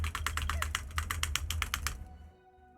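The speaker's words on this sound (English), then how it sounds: "Can you guys hear my keyboard?" Rapid keystrokes on a mechanical keyboard with Durock T1 switches, a steady run of about fifteen crisp close clicks over two seconds that then stops, leaving quiet.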